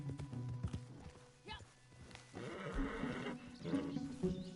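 In the Red Dead Redemption 2 video game, a horse snorts and whinnies while hooves clip-clop close by, a spoken voice mixed in with the animal sounds over several seconds.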